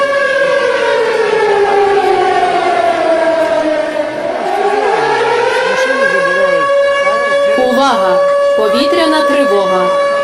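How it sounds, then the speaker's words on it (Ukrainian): An air raid civil defense siren wails loudly and continuously, its pitch sliding down and then rising again, while a voice speaks over it in another language. "Увага! Повітряна тривога. Пройдіть в найближче укриття."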